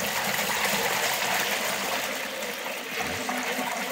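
Cooled beer wort pouring from a vessel through a strainer into a fermenter, a steady close gush of liquid splashing continuously for a few seconds.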